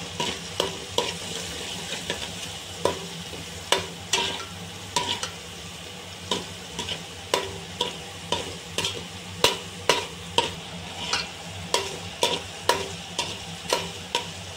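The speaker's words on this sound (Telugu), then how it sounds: "మనం మసాలా పులుసు ఊరబెట్టుకున్న ఈ వంకాయలు కూడా వేసి బాగా ఫ్రై చేసుకోవాలి" Marinated brinjals frying in hot oil with masala, a steady sizzle with a spoon scraping and stirring the pan at a regular rhythm, close by and without voices.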